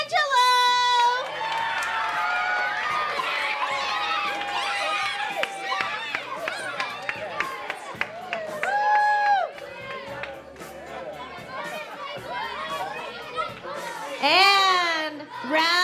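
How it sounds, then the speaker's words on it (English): A school crowd at the Lovestock 2022 event cheers and claps for a named winner, with children shouting and whooping over a sustained wash of noise, one high squeal near the end. "Give a big round of applause to Amy Kinchelow"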